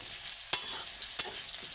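Potatoes sizzle quietly in hot oil in a home kitchen, with two sharp scrapes of a spoon stirring the pan over a steady hiss.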